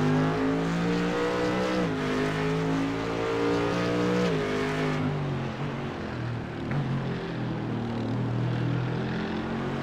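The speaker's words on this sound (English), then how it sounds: "nothing sounds meaner than what that Mercedes under power sounds like" A Mercedes GT3 race car at Daytona under power, its engine a loud, mean, sustained roar with gear-change dips in pitch, rising and falling as it climbs through the revs.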